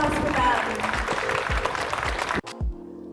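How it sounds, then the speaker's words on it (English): A pageant audience claps for the contestants in a dense, steady burst of applause lasting over two seconds, then it cuts abruptly to a short tonal music sting. "Nice big round of applause for them."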